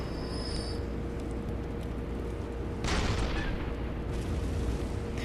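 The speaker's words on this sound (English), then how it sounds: "you can actually shoot the cannon as well." A heavy booming cannon blast erupts midway over a constant low rumble, followed by a lingering crackle, a cannon firing in the video game Bloodborne.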